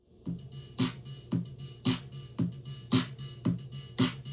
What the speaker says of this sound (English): That's the sound of the drum on its own.